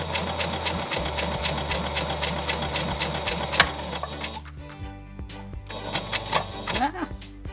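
A sewing machine stitches a button-covered dress with steady rapid mechanical clatter, which cuts out abruptly partway through as the thread breaks, followed by quieter handling sounds and a voice in the background.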